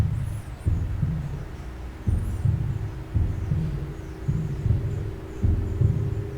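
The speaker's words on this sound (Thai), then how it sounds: "เสียงหัวใจเต้นแรงเนี่ย" Pounding heartbeat sound effect in the Roblox horror game The Mirror: a steady, heavy double-thump pulse repeating roughly once per second over a low hum, loud and close with no talk.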